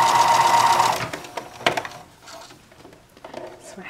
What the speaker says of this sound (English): So I'm going to stitch it, somewhere in the middle of this fold.